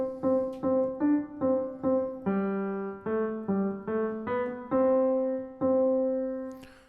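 Piano plays the melody of the old Christmas tune Good King Wenceslas, a steady line of single struck notes with clear attacks, loud and close, with no talking.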